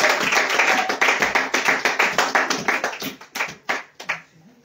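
Church congregation clapping in rhythmic unison, sharp regular claps that fade and thin out toward the end, leaving a few scattered hand claps.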